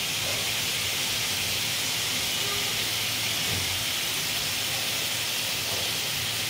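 Food fries in a hot pan, giving a loud, constant sizzling hiss that fills the whole stretch with no voices.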